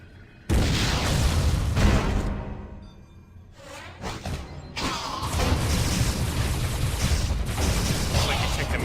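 Missile explosions from the video game Metroid Other M: heavy, loud booms and crashing bursts with rumbling tails, a short lull, then further blasts and sustained mechanical roar.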